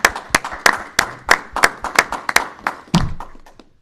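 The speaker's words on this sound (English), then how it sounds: "Let's give them a round of applause." A small audience at a university panel discussion claps in a sparse, uneven rhythm, a dozen or so distinct nearby hand claps that thin out and stop within a few seconds.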